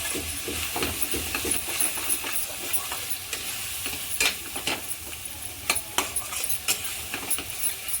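Chili powder and coriander-cumin paste frying in oil in a pan, a steady hiss and sizzle with irregular scraping and clinking of a spoon stirring, close up and without talk.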